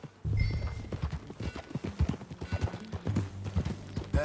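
Steady clip-clop of horse hooves trotting at a quick, even rhythm in the video game Red Dead Redemption 2, close and clear, with a brief high tone near the start.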